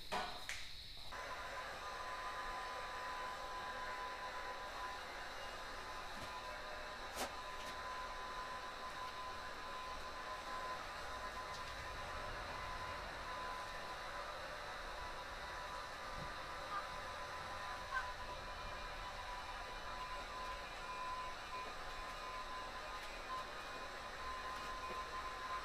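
A fiberglass side skirt for a turbo Honda is heated for bending, giving a steady, loud rushing blow like a heat gun that runs unbroken for the whole stretch, with a faint click early on.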